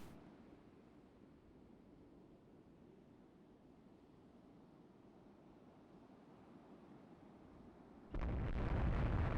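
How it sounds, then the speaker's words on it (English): Naval gunfire during a night destroyer and cruiser battle in the Rule the Waves 2 warship game: a steady low rumbling for about eight seconds, then a sudden louder, broad blast near the end, with no talk. "we've got shooting going on"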